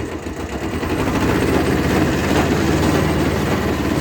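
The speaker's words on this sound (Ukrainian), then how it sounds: "Все дерчить, пихкотить, пихкотить генератор." Generator chugging and rattling beside a Kubota B5001 compact tractor in a rural yard, a steady low, loud engine drone with a continuous rhythmic puffing that holds evenly throughout, no talking.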